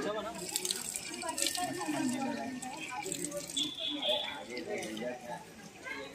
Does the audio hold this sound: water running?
yes